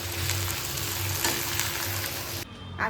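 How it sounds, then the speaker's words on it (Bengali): Potato and bitter gourd frying in a home kitchen, a dense continuous sizzle close by that drops away abruptly near the end, with no talking. "এখানে হচ্ছে আলু করলা ভাজা"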